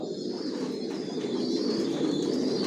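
Racing pigeons coo steadily in a loft, a dense, continuous murmur of several birds blending together at moderate loudness.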